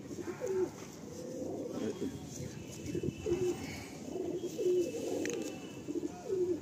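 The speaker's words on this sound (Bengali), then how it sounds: "এগুলো সেটিং পায়রা" Madrasi pigeons coo in repeated low, rolling calls close by, with several coos spaced through the clip over a soft background and voices nearby.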